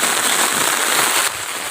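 Heavy monsoon rain pours down in a village, a dense, loud, continuous hiss and patter close by that drops slightly in level near the end.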